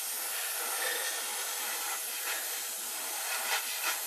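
Spray paint hisses onto a model aircraft kit in a steady, close, airy stream that keeps going with slight surges, laying down a full coat, and no one speaks over it.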